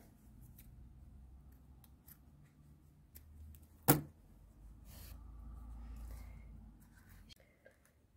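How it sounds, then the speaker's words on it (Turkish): Scissors snip a sewing thread during handwork, one sharp close cut standing out clearly, with quiet rustling and soft handling noises before and after. "Burada ipimi kesiyorum."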